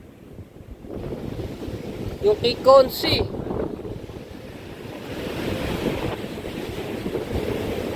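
Sea waves wash near the shore with a broad, steady roar and wind buffeting the microphone, while people briefly talk over it midway.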